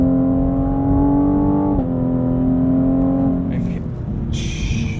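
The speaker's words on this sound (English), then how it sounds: "I do still kind of like the noises the engine makes, though." A 2020 Cadillac CT5-V engine revs under acceleration, giving a loud, steady drone that climbs in pitch, breaks briefly at a shift, then falls away, with faint sounds near the end.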